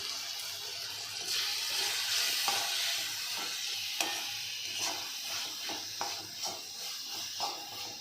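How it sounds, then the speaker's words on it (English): Onion, tomato, turmeric, salt and Bihari masala being stirred in an oily pan: a steady sizzle runs throughout, broken by repeated scraping and clacking strokes of the spoon, close and fairly loud. "Now let's mix this well."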